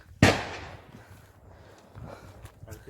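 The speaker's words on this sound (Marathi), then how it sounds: "हो आता पालखीने फटाके गावतात" A single sharp firecracker bang bursts loudly near the start, its echo fading, followed by faint scuffling and a few smaller crackles, at a Konkan palanquin festival during Shimga.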